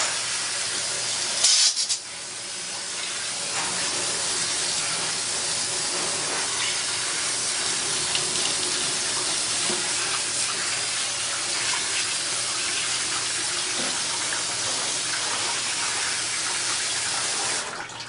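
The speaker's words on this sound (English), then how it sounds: "let's do a little rinsing." Water steadily rinses the motor of a Singer Model 328K sewing machine while it sits inside the machine, a continuous close hiss and rush. A short low thump comes near the start.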